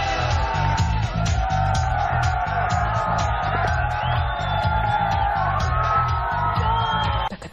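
A hyped-up wrestling crowd in New York City, at a WCW and MTV event, yells and whoops loudly and continuously, with a steady pounding beat thumping beneath the roar.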